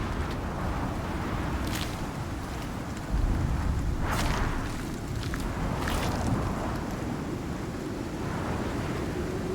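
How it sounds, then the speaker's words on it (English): A storm gathering in the survival video game Icarus, heard as a continuous heavy roar of wind and rumbling with a few swelling gusts, loud and steady with no talking. "Oh, that's a bad storm coming."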